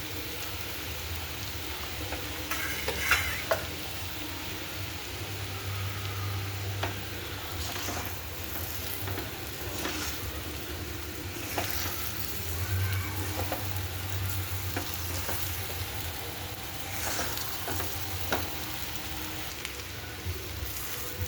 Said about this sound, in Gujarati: હવે આપણા હલાવી દઈ